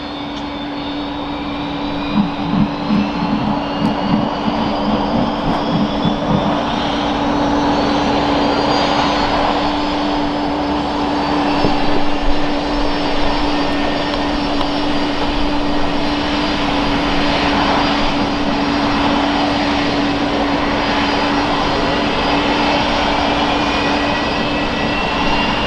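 A plane taking off from runway 01 left at Brisbane Airport, its engines roaring loud and steady throughout with a rising whine as it accelerates, no talk over it.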